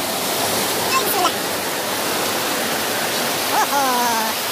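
Mountain stream rushing beside a rough road on the way to the Arslanbob waterfall, a steady, loud broadband roar of flowing water filling the whole clip, with brief voices rising faintly over it.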